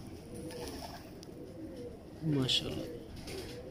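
Pigeons at a pigeon breeder's loft give a short, low, throaty coo partway through, under steady background noise and a man's speech.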